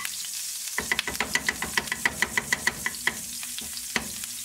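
Cooking oil and butter sizzle in a pan as a utensil stirs and scrapes in a steady run of sharp, close clicks over a constant frying hiss, while sautéing begins for a creamy spinach soup.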